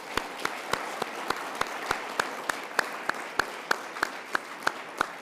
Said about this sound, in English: Perhaps another round of applause.